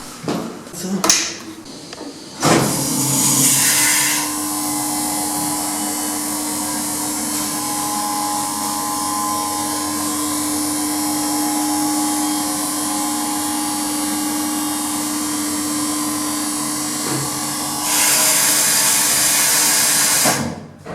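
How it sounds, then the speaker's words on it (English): Machinery in a hotel motor room in Rome runs as a loud, steady mechanical drone with a sustained whine. Sharper bursts open and close the run, and a few brief knocks are heard early on. "the guy at the hotel showed me the motor room"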